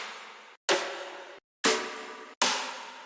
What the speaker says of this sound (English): The snare is layered with 4 different snares that sound like this.